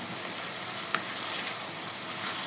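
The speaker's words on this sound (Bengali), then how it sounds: "আর একটু ভাজা ভাজা করবো" Beef tripe fries in a pan with a dense, even sizzle and a brief scrape of stirring, close and steady throughout with no voices.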